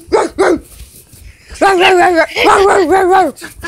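Dogs bark loudly and close, a couple of quick barks followed by longer strained, howling barks in rapid succession.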